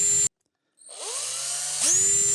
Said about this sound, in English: Once again, power tools to the rescue.